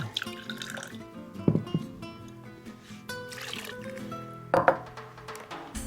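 Cider vinegar, about a quarter cup, pours into a simmering sauce in a kitchen, a soft liquid splash with faint drips and clinks, close and quiet with no talking.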